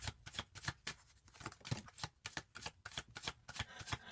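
Tarot cards riffled and shuffled by hand in quick, crisp bursts of papery flutter and snapping, repeating steadily in a close, fairly quiet rhythm with no talking.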